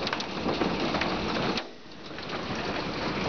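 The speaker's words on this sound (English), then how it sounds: "and now it's hailing." Dense hail pelts down during a July thunderstorm in Lower Sackville, Nova Scotia, a loud continuous rattling clatter with a brief lull midway before resuming.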